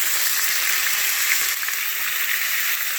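Marinated beef sizzles steadily in hot olive oil in a pan, a loud, close, continuous hiss and crackle with a brief stir partway through and no talking.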